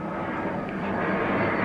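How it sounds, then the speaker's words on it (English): An airplane flies overhead, a steady broadband roar that holds at an even, moderate loudness throughout with no voices. "The airplane traffic today."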